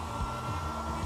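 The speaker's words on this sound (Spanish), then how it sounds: "Un secador de pelo en el escenario es tan antiguo." A hair dryer blowing on a stage, a loud, steady motor whine with a strong airy rush, continuous and close throughout.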